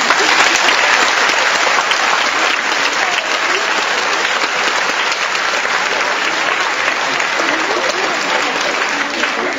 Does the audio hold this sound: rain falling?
no